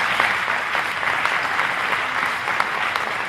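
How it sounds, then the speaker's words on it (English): Steady, dense applause from a town meeting audience for a discussion panel, even and sustained throughout at close range with no talk over it. "Let's give a round of applause to the panel."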